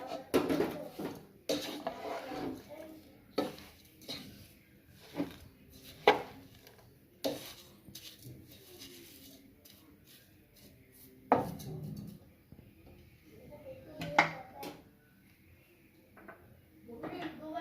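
Stirring grated carrots with milk and sugar in a pot for gajar ka halwa, giving irregular knocks and scrapes of a utensil against the pot, some sharp and loud, separated by quieter pauses.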